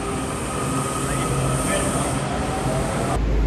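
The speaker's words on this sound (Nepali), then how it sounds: "यो मेट्रो चाहिँ यो लगभग हिँड्न हालेको छ, यो हिँडिसकेको छ" Metro train pulling away from a station platform, a steady loud rumbling rail roar with faint wheel noise and background voices throughout, ending in an abrupt low thump.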